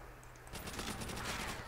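Chicago Typewriter machine gun in Call of Duty: World at War zombies mode, a sustained rapid burst of automatic fire after a brief quiet start, steady and fairly faint.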